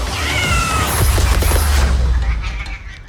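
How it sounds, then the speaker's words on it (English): A cartoon cat meows loudly in an alleyway scene, giving a rising cry near the start under a dense, noisy soundtrack of bangs and rumbling that fades out toward the end. "when he corners a cat in the alleyway"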